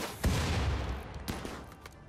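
Gunfire in the video game RimWorld (Alpha 11): a loud burst of several rapid shots with sharp repeated cracks, first near the start and again later.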